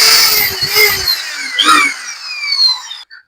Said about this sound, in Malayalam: ഞാനിപ്പോൾ ഒരു സ്ക്രൂ ഇട്ട് നമ്മൾ പിരി ഈ തടിക്കകത്ത് തന്നെ ഒരു ജിപ്സം സ്ക്രൂ രണ്ടിഞ്ചിന്റെ സ്ക്രൂ ഇറക്കിയിട്ട് തിരിച്ച് ഊരുകയാണ്